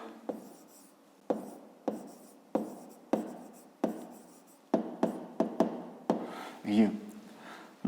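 Pen strokes tap and scratch across paper in short bursts while a math solution is written out, each stroke crisp and close, separated by brief pauses.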